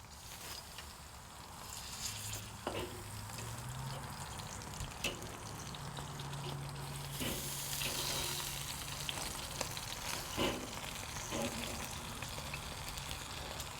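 Thick-cut pork chops on a Weber kettle grill with a Slow 'N Sear give off a steady, soft sizzling hiss, marked by occasional clicks and scrapes as the meat is shifted around.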